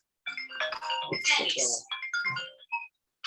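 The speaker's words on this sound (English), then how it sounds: "My phone went off." A mobile phone ringtone goes off during a conversation about gigging in Donegal, its bright melodic tones sounding for about three seconds and mixed with overlapping talk.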